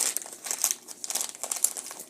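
A plastic bag crinkling during an unboxing of jewelry and accessories: irregular close crackles and rustles in quick bursts, fairly soft, with no talking.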